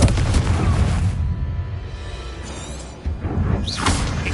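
A booming Confringo fire-spell blast in Hogwarts Legacy, loud and close, with a heavy low burst tailing into a whoosh and a second impact near the end.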